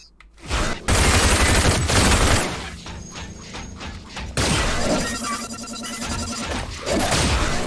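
Gunfire from the video game RAGE: a dense burst of loud shots and crashing impacts that rolls on for several seconds, then a second stretch of rattling fire and clatter, with game effects layered throughout.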